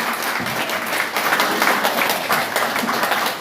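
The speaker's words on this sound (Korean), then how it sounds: "다시 한번 큰 박수 부탁드리겠습니다" Applause from a crowd at a Korean political party provincial meeting, a loud, dense, steady roar of many hands clapping that sustains throughout without voices on top.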